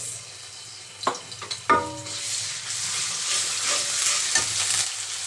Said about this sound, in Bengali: তেল দিয়ে দিচ্ছি কড়াইয়ের পরিমাণ মতো আদা জিরে রসুন পেঁয়াজ বাটা দিয়ে দিচ্ছি